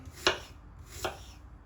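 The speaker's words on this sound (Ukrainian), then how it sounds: "І так всі яблучка нарізаю." Two crisp knife cuts through fresh apples on a board for an apple and cheese pie, evenly spaced about a second apart, close and clear with no talking.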